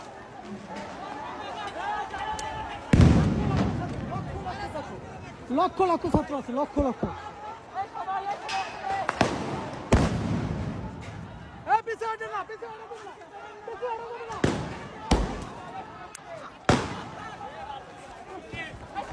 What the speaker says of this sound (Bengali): ছাত্রদের উপর কিভাবে গুলি করে দেখেন।